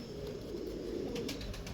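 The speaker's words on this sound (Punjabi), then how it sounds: "ਇਹ ਕਾਲੇ ਮੂੰਹ ਵਾਲਾ ਕਬੂਤਰ ਜਨਾਬ" A black-faced pigeon on show at a pigeon sale gives a soft, close, low cooing murmur that carries on steadily, with no talk over it.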